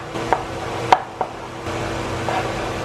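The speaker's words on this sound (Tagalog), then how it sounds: "Hahatiin ko na lang to sa gitna" A knife halves a tomato on a cutting board for sinigang, giving a few sharp, separate chopping knocks close by, each quick and distinct over a quiet kitchen background.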